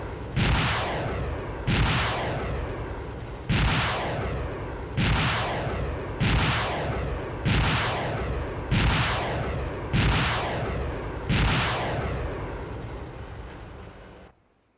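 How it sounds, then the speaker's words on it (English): LRS artillery firing in the video game Arma 3, eight heavy booming shots at a steady interval of roughly two seconds, each loud report rolling off into a long decaying rumble before the next. "LRS firing."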